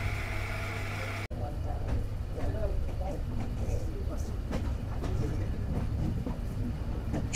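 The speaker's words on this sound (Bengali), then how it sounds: "সকাল 8:10 আমাদের ট্রেন ছেড়ে গেল জয়দেবপুর রেলওয়ে জংশন স্টেশন থেকে" A passenger train pulls out of Joydebpur railway junction station, its steady rumble and faint clickety-clack filling the cabin after an abrupt cut, with light ambient noise from inside the carriage.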